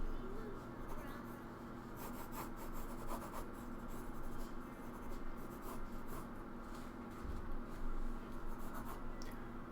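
Pencil scratching and rubbing on paper while a comic character is sketched, a steady close scratchy rasp with short strokes throughout, a voice murmuring now and then.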